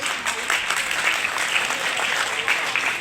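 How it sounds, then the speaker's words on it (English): Steady applause from a school function audience, many hands clapping densely and continuously at a moderate, even level throughout. "let's show our appreciation with a heavy round of applause"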